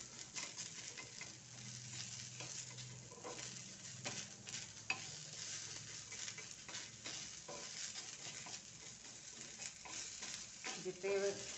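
An onion dry-roasts in a pan without oil, giving a faint, crackly sizzle with soft scraping and stirring taps throughout, quiet and close.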